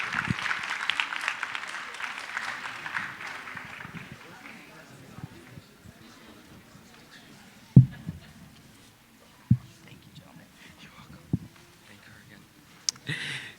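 Applause from an audience at a high school anniversary assembly swells at the start and fades within a few seconds, followed by quiet room sound with scattered thumps and clicks.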